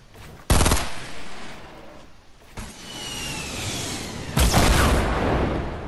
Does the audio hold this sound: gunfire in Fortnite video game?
yes